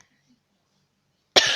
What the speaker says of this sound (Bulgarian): Кашлям.